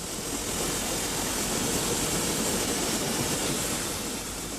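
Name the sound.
Beyer Peacock steam locomotives 1210 and 3112 running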